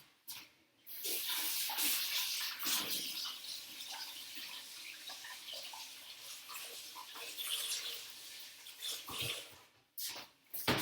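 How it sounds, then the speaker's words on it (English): Hands are washed under a running kitchen tap, a loud, steady rush of water that holds for about nine seconds, breaks off briefly and then starts again, with no talk. "So just go wash my hands."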